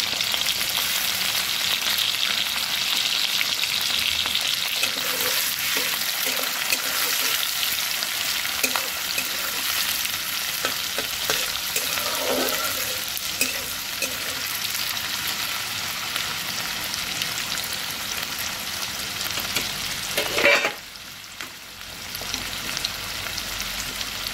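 Chopped onions hit hot oil alongside minced garlic while cooking drumstick leaves, giving a steady broadband sizzle with occasional stirring clinks, loud and continuous, then a brief scrape and a dip near the end.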